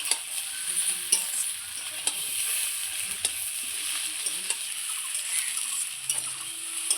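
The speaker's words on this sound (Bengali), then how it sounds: "এত সুন্দর করে ভাজছি সজি কচুটা, দেখুন একদম কড়াইয়ে লেগে নাই" Taro (arum root) frying in a wok, a steady close sizzle with repeated scraping and stirring strokes of a spatula against the pan, no talking.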